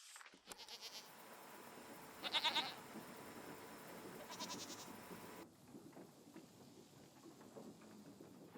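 Goats bleat in a played recording, a few calls rising over a steady rainy wash before the sound cuts to quieter background partway through.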